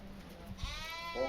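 A sheep on a farm bleats once, a wavering mid-pitched cry rising near the middle and fading, heard at moderate distance over low outdoor background noise.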